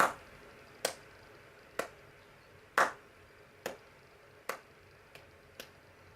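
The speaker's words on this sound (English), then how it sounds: "Let's begin with just a slow clap for Amy for yesterday" A few people give a deliberately slow clap, eight sharp, isolated claps spaced roughly a second apart over quiet room tone, close and crisp with no talking.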